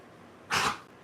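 A single short, breathy sneeze from a dog indoors, close and fairly loud, lasting a fraction of a second against quiet.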